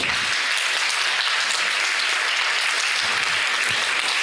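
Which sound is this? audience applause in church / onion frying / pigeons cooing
audience applause in church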